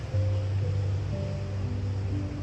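Ocean waves at a beach, a steady, close surf wash with a low rumbling undertone, continuous and unbroken.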